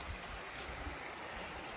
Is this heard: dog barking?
no